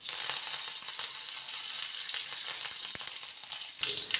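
Curry leaves spluttering in hot oil with mustard seeds and cut dried red chillies, a fairly quiet continuous crackling sizzle with scattered pops and a brief louder burst near the end.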